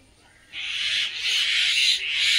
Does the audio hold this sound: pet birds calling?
yes